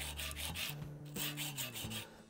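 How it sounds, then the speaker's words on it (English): A hand wood file rasps steadily while shaping a bicycle brake lever, with a run of back-and-forth strokes in close, even rhythm and no talking. "What I'm using is actually a wood file."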